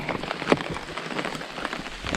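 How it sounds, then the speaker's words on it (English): Steady rain falls outdoors on a hiking trail, a dense continuous patter of drops with a few sharper close hits on a nearby surface, no voices present. "Well, it's officially raining."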